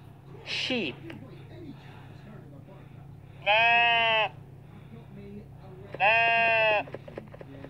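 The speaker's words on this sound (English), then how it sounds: "Sheep." A farm sheep bleats twice, each call long, loud and wavering. A brief spoken word comes before the bleats, with quiet background noise between them.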